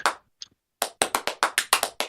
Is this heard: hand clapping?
yes